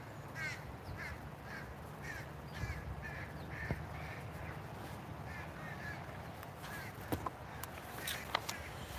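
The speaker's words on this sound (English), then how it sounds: "And I hear a crow yapping at me." A crow caws in a park, its calls coming as a few sharp bursts over steady outdoor background noise, moderately distant rather than close.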